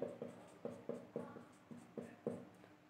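Someone writes a chemical equation on a board, making faint, rhythmic strokes and taps in quick succession that are close and quiet, with no talking.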